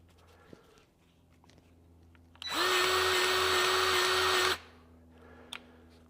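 A Milwaukee M18 2646 cordless grease gun dispensing grease runs in a single loud, steady motor whine of about two seconds. It starts and stops sharply, with quiet handling noises before and after.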